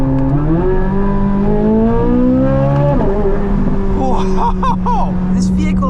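A Chevrolet C8 Corvette Z06's V8 pulls hard under launch control, its engine note climbing steadily through the revs, shifting once midway, then winding up again loud and close, with a voice breaking in near the end.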